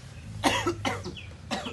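Harsh coughing after a puff of tobacco in an anti-tobacco-day street play: about four close, rough coughs in quick bursts with brief gaps between them.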